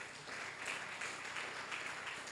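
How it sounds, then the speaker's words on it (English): At a national citizens' town hall on constitutional review, the audience gives a soft, distant round of steady clapping that lasts a couple of seconds. "I think it's not out of place to a round of applause to CYPA Africa."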